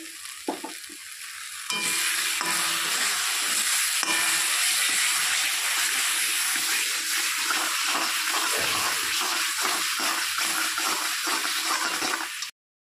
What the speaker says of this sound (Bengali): মশলাটা একটু ভাজা ভাজা হয়ে গেছে